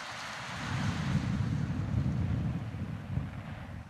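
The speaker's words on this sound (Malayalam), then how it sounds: "ശക്തമായ കാറ്റും ഇവിടെ ഉണ്ട്" Strong wind in Munnar during heavy rain, a deep gusting roar buffeting the microphone, swelling after the first half-second and easing slightly toward the end.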